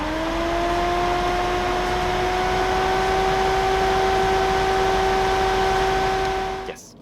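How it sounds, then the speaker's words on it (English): Inside a Peugeot 208 PureTech 1.2 turbo, the air conditioning fan blows a loud, steady whoosh with a constant whine running under it, then cuts off abruptly near the end. "there is the aircon fan noise. It is so loud, which I have no idea why."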